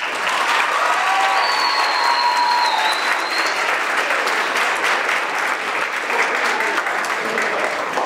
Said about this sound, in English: now we have a round of applause